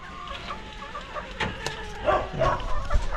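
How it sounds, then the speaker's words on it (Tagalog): Chickens cluck and murmur close by, several birds overlapping in short, irregular calls with soft scratchy background noise. "Yung mga manok ko."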